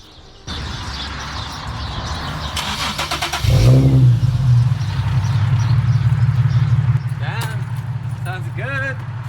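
A Nissan 370Z with a muffler delete and Nismo tips cranks and fires up, then settles into a loud, raspy idle up close, with a voice speaking briefly near the end.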